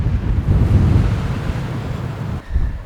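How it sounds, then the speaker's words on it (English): Wind gusts through a Utah canyon, buffeting the microphone with a loud, steady low roar that swells and eases, alone with no voices. "now that we're in here, the wind has decided to come out of the south."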